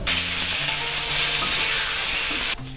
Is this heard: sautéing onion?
yes